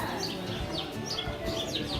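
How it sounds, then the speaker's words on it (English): Several birds chirp and tweet in short repeated calls over a steady outdoor background, with faint voices mixed in. "there's like loads of birds just around, just chilling"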